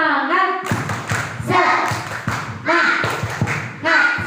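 Children at a Maulid Nabi school event at SDN 24 Mataram clap in a rhythmic counting game, with bursts of hand claps in set patterns between chanted words, close and loud.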